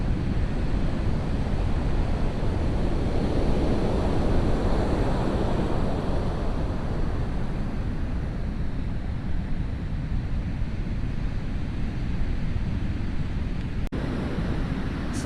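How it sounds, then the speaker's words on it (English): Ocean waves breaking at Portuguese Beach, a steady loud wash of surf with wind buffeting the microphone, continuous throughout with no talking. "So now you can see the waves up close as you approach the water"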